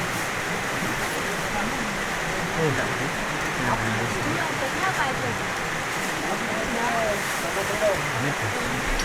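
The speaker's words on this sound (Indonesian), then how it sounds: "Hujan." Rain falls as a steady, even hiss on a mountain, Mount Lawu at Cemoro Sewu, with faint background voices mixed underneath.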